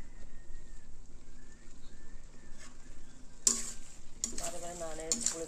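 Mutton and ash gourd are stirred and sautéed in a pan, with a low sizzle broken by bursts of scraping and clattering from the spoon. A voice talks faintly at times.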